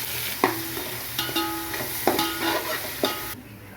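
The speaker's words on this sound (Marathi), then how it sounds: "आपण यामध्ये कांदा टाकू कांदा पण चांगला लाल होईल परतून घेऊया" Onion sautéing in a pan, an up-close hiss of frying broken by regular spatula scrapes and taps against the metal, about four strokes before cutting off, no speech.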